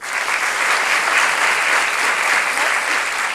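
Audience at an improv show in Paris bursts into loud, sustained applause, a dense even wash of clapping with no break from start to finish.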